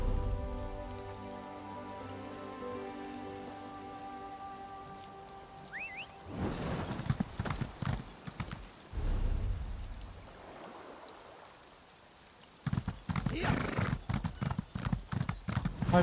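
Hooves of a horse in the video game Elder Scrolls Online clip-clop steadily along with a soft patter like rain, the hoofbeats fading and returning in louder stretches.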